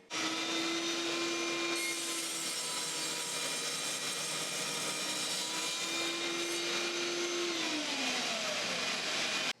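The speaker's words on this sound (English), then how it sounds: "let's do a test cut" A power saw slices through aluminum extrusion in a test cut, its motor whining steadily with a high tonal hum that drops in pitch as the blade loads up, close and continuous with no talking.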